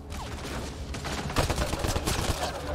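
Rapid bursts of gunfire fill a firefight in the video game Mass Effect Andromeda, with dense overlapping shots that grow heavier partway through, and no voices.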